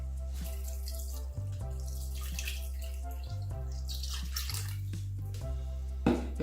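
Water pours steadily into a large cooking pot holding wrapped egusi seeds, a continuous splashing rush with a low resonant tone and a few brief interruptions, close and fairly loud.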